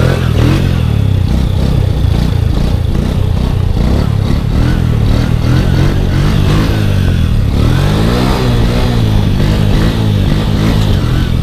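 An ATV engine revs hard and loud through repeated stand-up wheelies, rising and falling throttle bursts with clattering mechanical noise, close and continuous without pause.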